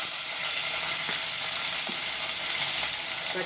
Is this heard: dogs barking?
no